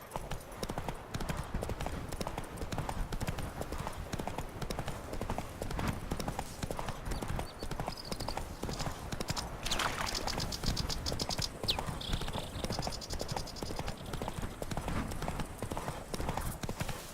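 Horse hooves clip-clop in steady, rapid rhythm in The Witcher 3, close and continuous, with faint mechanical clicks and a brief whinny mixed in.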